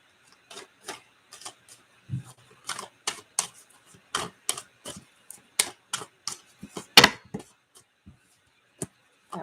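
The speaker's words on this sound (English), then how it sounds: "That was a lot of cards that just fell." Tarot cards spilling and slapping down while being shuffled, a scatter of quick light clicks and flicks at uneven intervals, close and crisp against a quiet room.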